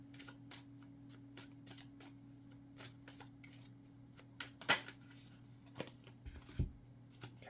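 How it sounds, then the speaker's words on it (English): Tarot cards riffled and shuffled close up, quick soft flicks and slides, then a few single cards being drawn and set down with small clicks and taps, quiet, with no talking. "We're going to pull a couple more cards."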